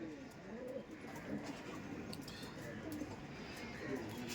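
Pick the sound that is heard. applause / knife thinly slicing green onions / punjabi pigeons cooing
punjabi pigeons cooing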